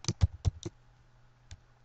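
Four quick keystrokes tap on a computer keyboard in a rapid run, then a single press follows after a short pause, crisp and close in a quiet room.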